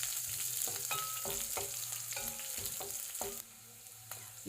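Curry leaves, green chillies and ginger crackle in hot oil for capsicum lemon rice, a steady close sizzle with repeated spoon stirring taps and no voices.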